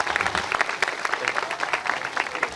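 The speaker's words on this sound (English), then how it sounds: "Clap it up for Mr. Miller." An audience claps at an outdoor statue ceremony honoring Dawn Staley, a dense, lively applause of many hands that continues loud and steady throughout.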